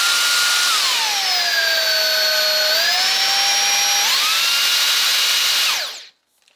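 A Roborock H7 cordless stick vacuum runs with a high motor whine that rises in pitch as the suction is increased, shifts again near the end, and then cuts off abruptly.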